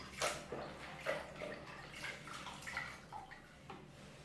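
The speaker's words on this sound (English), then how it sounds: "so I will dip it in the bucket" Napkin dipped into a bucket of water, giving faint splashing and dripping sounds close by, with small sloshes over a quiet background and no talk.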